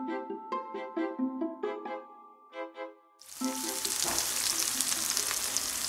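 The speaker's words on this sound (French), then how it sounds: "une échalote et de l'ail qu'on va faire revenir dans de l'huile d'olive" Shallot and garlic frying in olive oil for a butternut purée, starting as a loud, steady sizzle midway through after a stretch of tonal music, then hissing continuously and close.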